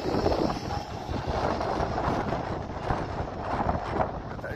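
A Blackpool tram passes along the route between Gynn Square and Bispham, a steady, fairly close rolling rumble with windy outdoor noise and no talking.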